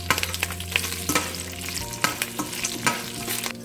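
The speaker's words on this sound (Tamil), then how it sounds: "வரமிளகா, 1 கொத்து கருவேப்பிலை, நடக்கடலையும் பொட்டுக்கடலையும் போட்டுட்டு கொஞ்சம் ஃப்ரை பண்ணிடலாம்." Peanuts, roasted gram, dried red chillies and curry leaves fry in hot coconut oil with a dense, close crackling sizzle, broken by repeated rattling stirs and scrapes.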